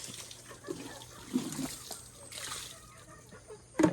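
Water splashes and sloshes in a bucket during washing, in soft irregular bursts close by, over low background noise with a voice briefly audible.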